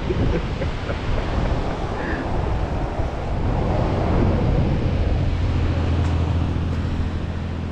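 Cold, steady wind on the Oregon coast rushes and buffets the microphone in a loud, continuous roar, with a low rumble of surf underneath throughout.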